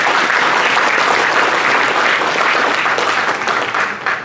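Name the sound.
audience applause at Diwali program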